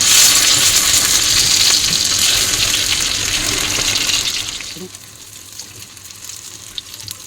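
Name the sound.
chicken buns frying in butter and a little oil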